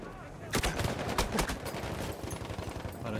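Gunfire cracks from a window of a house in Battlefield 1, a quick run of loud, close shots in a rapid, uneven rhythm over a dense battlefield din, with a voice faintly underneath.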